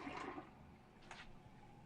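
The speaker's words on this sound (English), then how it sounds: "Go ahead and flush this down." A toilet flushing while hard-water cleaning is underway: a soft rushing gurgle of water at the start fades into a quiet trickle, then a brief splash follows, all faint and heard alone.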